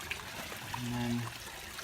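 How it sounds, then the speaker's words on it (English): Water from a filter trickles and splashes steadily into a backyard koi pond during a spring setup in Minnesota, a soft continuous flow close by with a brief low hum rising midway. "can see the waterfall passing into the pond"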